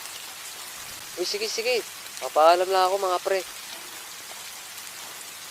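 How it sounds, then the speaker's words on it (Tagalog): Steady rain pours in an animated Filipino cartoon scene, a continuous hiss running through the clip while young voices talk over it. "sulitin natin tong ulan na to"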